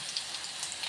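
Garlic sizzling in hot oil while tempering for misal, a steady soft crackle of spitting oil with small pops, close and fairly quiet, with no talking.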